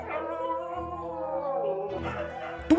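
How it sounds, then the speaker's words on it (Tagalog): Several dogs howl together in long, wavering tones in the early morning, sustained and fairly close, with a sharper yelp breaking in at the very end. "umaalingaw-ngaw ang anulong ng mga aso."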